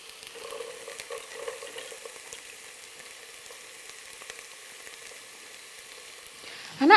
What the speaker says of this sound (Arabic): نقلي الزروديه، شوفوا الحجم تاعها قصيتها صغيره